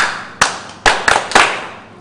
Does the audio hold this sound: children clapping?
yes